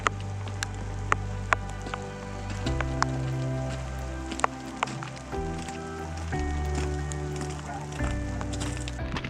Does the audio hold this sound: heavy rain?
yes